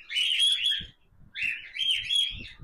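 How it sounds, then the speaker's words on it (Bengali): Pet cockatiels and conures chirping in two loud bursts of bright, busy calls separated by a short pause, close by with no talk. "বর্তমানে ককটেল পাখি আমার এই সেটই আমার কাছে আছে বর্তমানে"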